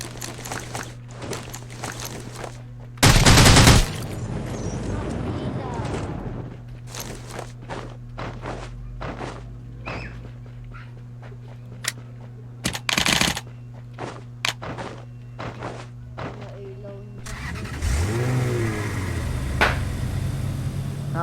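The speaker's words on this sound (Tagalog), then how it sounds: "Nakagulat yung paputok na yun" Firecrackers go off in a Filipino New Year video game, several sharp bursts and crackling pops over a steady droning game background, with footsteps and other game noises between blasts.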